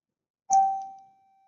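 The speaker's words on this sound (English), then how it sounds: "sorry about the bell" A single bell rings once with a sharp struck onset and a clear sustained tone that decays over about a second, loud and isolated in an otherwise silent room.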